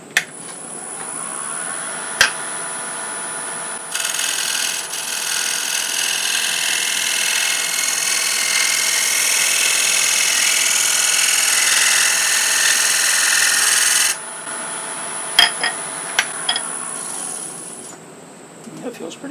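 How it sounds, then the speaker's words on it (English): Scraper shear-scraping a wooden button-style Christmas ornament spinning on a lathe, a steady smooth hiss over the motor hum that runs about ten seconds, with small taps before and after. "so I'd go around in a shear scraping fashion and clean that up"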